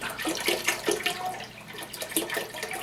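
Liquid, the rest of a quart, poured into a soup pan of garlic roasted potato soup, a close splashing, gurgling stream with uneven glugs and surges.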